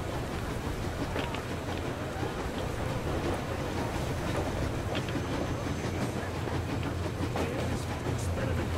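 A moving train in the video game Metro Exodus rumbles steadily with a rhythmic clatter of wheels on track, constant and fairly loud throughout.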